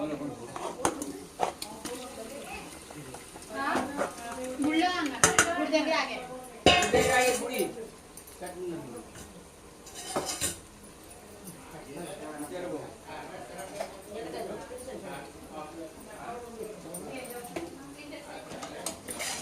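Marinated chicken for chicken dum biryani stirred in a metal pot, with scraping and clinking of a spoon against the pot that come and go under steady talking in a home kitchen.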